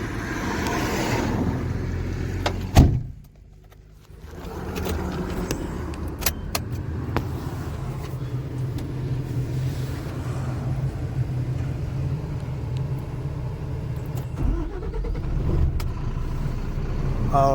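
Car keys jangle, then a vehicle engine starts and settles into a steady rumbling drive on a rough, potholed road, sustained and close with occasional clicks and bumps.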